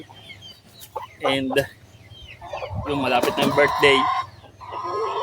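A rooster on a free-range chicken farm clucks and calls in several loud, close bursts, with someone talking in between.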